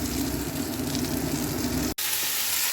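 Vegetables tipped into hot oil seasoned with panch phoron and dry red chilli, giving a loud, steady close-up sizzle with a brief dropout near the end before the frying continues.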